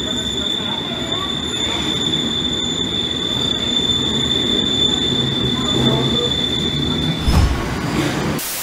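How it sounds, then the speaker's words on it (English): A London Underground train rumbles steadily past with a high metallic whine and a brief squeal near the end, loud and close throughout. "There's a train coming."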